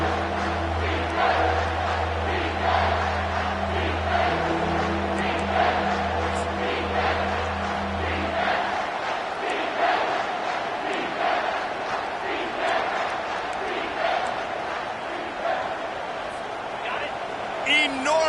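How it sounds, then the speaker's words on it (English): Football stadium crowd roaring on a third-down play, a dense continuous wash of cheering and shouting that holds steady throughout, with a low engine-like hum underneath for the first half. "Third down, and this crowd is bringing down the house."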